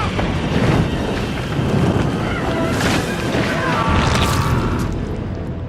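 A thunderstorm rages in a scene from the 1999 kaiju film Gamera III: The Revenge of Iris, with loud continuous rain, rumbling booms and crashing noise filling the whole stretch, along with other film sound.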